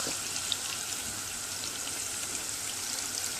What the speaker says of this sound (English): And this fries, it doesn't take so long to fry, just a little bit of some time.